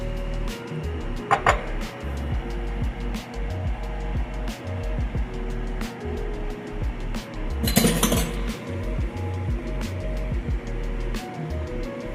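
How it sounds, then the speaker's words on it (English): Batter for Guyanese metemgee soup being mixed in a bowl, a spoon repeatedly clinking and scraping against the sides in an uneven rhythm, with a brief louder scrape partway through and no talking. "Mix it all up. Scrape the sides."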